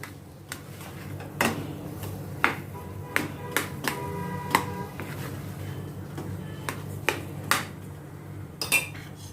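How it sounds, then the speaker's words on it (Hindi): A spoon mixes salted mashed potato filling in a metal bowl for bread rolls, giving sharp, irregular clinks and scrapes against the bowl over a low background hum, fairly close and alone. "नमक डाल के अच्छी तरह से मैं मिक्स करती हूँ।"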